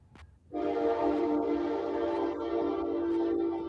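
After a brief click, a train horn sounds from a soundboard, one long steady tonal blast sustained for about three seconds.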